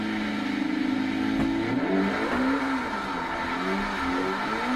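A cheap drift car in Forza Horizon 3 revs hard during a clutch kick, the engine note rising and falling in sweeping pitch changes, loud and continuous with tyre and exhaust noise throughout.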